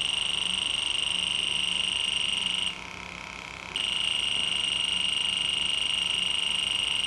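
A Fieldpiece SRL2 infrared refrigerant leak detector buzzes with a steady high electronic tone that cuts out for about a second, then resumes at the same loud, continuous level.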